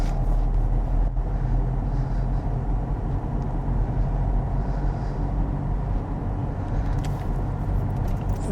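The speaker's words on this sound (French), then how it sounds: "Allez, ici, on va passer la deuxième vitesse." A car pulls away in second gear on a city-centre street during a driving lesson, its engine building in a steady, moderately loud hum with road and tyre noise. Nobody speaks.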